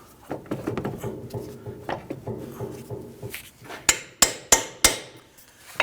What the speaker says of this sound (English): Just give those bolts just a couple taps.